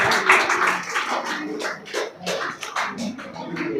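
At an academy's award program, a small audience claps for a winner with a ragged run of close, uneven handclaps that keeps a steady pace and then thins out.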